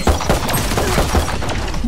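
Rapid gunfire in a Valorant ranked match, a dense burst of close, loud shots rattling nonstop for about two seconds.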